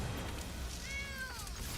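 One short cat meow from the Skittering Kitten card in the Magic: The Gathering video game rises and falls, faint over a steady background hiss.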